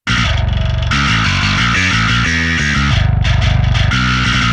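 A gritty, distorted synth bass plays a punchy stepping riff, notes changing every beat or so, buzzy and saturated with a bright fuzzy edge.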